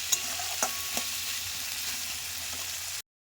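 Potatoes seasoned with turmeric and salt fry in fish oil for a Bengali bati chorchori, a steady close sizzle with a few sharp spatter pops near the start and a stir clink.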